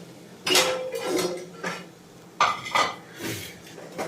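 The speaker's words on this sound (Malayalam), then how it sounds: "ഇട്ട് അത് തവി ചെറിയ ഒന്ന് ഇളക്കി കൊടുക്കാം" Soya chunks dropped into a pot of boiling water and stirred with a ladle, a few loud metallic clanks and scrapes separated by short pauses.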